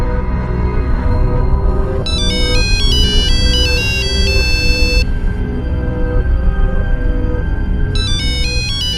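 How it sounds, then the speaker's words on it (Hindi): A mobile phone rings from inside a house, a bright repeating electronic melody that plays in bursts over a steady background hum and noise. "फोन तो अंदर बज रहा।"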